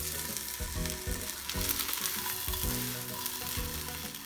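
Japanese rolled omelet (tamagoyaki) frying in a pan, a steady close sizzle with repeated soft bumps and scrapes as the roll is turned, no voices.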